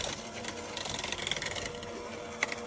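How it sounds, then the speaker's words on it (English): A handheld KitchenAid mixer beats butter and sugars, a continuous buzzing motor whir with rapid rhythmic clatter from the beaters. It is close and steady, with a sharp knock near the end. "I think my handheld KitchenAid works perfectly fine for what I need it to do"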